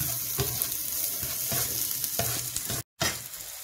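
Potato filling for an African meat pie sizzles steadily in a pan, with occasional stirring scrapes and a brief dropout near the end, no voices over it.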